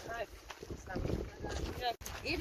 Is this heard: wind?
yes